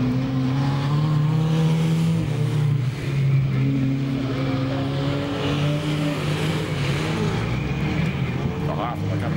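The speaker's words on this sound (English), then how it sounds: "the Jeff Peacock car coming down the main straight." A speedway race car at Archerfield Speedway roars steadily down the main straight, its engine holding a loud, sustained drone with a rising whine near the end, under continuous commentator talk.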